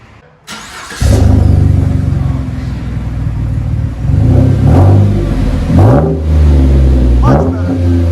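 A Chevy Silverado 4.3L V6 with an aftermarket Kooks or Flowmaster Super 10 exhaust starts up and revs, a loud, close, rumbling exhaust note rising and falling through several blips of the throttle.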